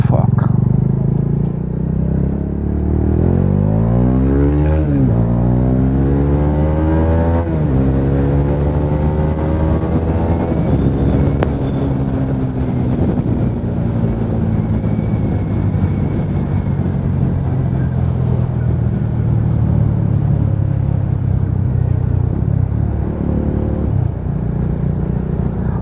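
Bajaj Dominar motorcycle engine revving and pulling through the gears while riding, with a steady loud drone, rising pitch sweeps at each gear, and constant wind rush throughout, recorded close on the bike.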